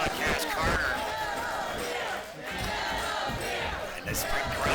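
A big, fired-up wrestling crowd at an indoor independent show in Escanaba roars and chants continuously, loud and dense throughout, with a brief dip in the middle and voices shouting in the mass.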